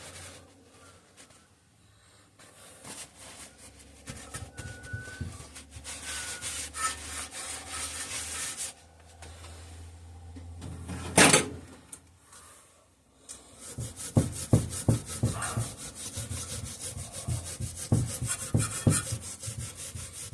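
A rag rubs and wipes inside the cylinder of a 5 hp Briggs and Stratton engine, giving soft, irregular scrubbing strokes up close, with a sharp clank midway and faster rubbing afterward.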